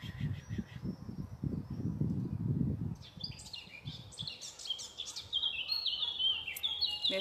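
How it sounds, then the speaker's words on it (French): An outdoor bird sings clear, bright chirping phrases over soft rustling ambience, growing more prominent after a low murmuring start, with no speech. "Merci à ce bel oiseau qui nous accompagne"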